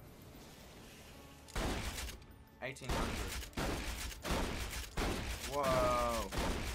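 Heavy shotgun blasts from the Borderlands 2 video game boom in a rapid string of loud, dense bursts, with a short rising whine partway through and a brief startled exclamation from a player.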